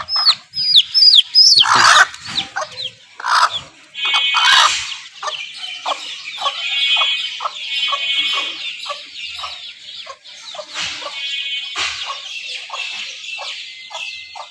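Farm hens cluck and squawk nearby in a busy, uneven run of calls, with a few louder, sharper outbursts near the start and quieter clucking continuing throughout.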